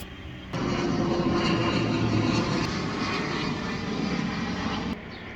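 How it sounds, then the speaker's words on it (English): Small plane flying low overhead along the approach lane near an airport, a steady loud engine drone that starts abruptly and holds for several seconds before dropping away. "this is the lane for the small planes"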